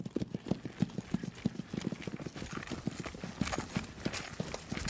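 Horse hooves clip-clop in a steady, close rhythm, with each footfall distinct as the animal walks.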